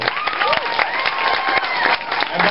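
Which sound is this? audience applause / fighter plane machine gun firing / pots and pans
audience applause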